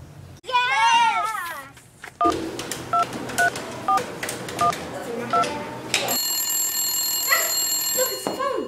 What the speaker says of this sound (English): Look, it's a phone.